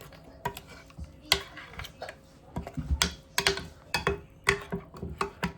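Marinated chicken with oil and spices for naga tandoori is mixed by hand or spoon in a bowl, giving irregular close clinks, taps and scrapes in quick clusters with no talking.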